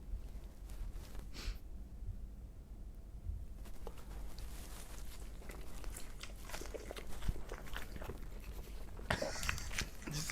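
A person eating pizza, biting and chewing close to a microphone, with soft crunchy bites and wet mastication sounds repeating irregularly over a quiet room, no talking.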